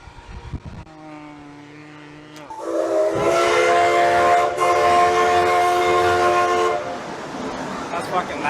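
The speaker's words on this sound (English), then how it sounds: "did you guys hear the train?" A steam train whistle blows loud and close at a theme park festival, a long harmonic blast holding for several seconds before fading under crowd noise, with faint talk just before it.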